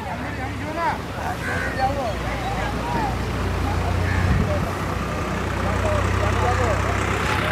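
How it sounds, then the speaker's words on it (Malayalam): A tractor engine approaches on a beach, a steady low rumble building slightly over several seconds under wind and crowd noise. "ഇതിലൂടെ ട്രാക്ടർ വരുന്നുണ്ടേ"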